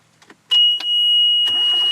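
A sailboat's engine turns over and catches on a cruise in Alaska, a sharp start followed by a steady, loud running drone with a high whine, preceded by a few quiet clicks.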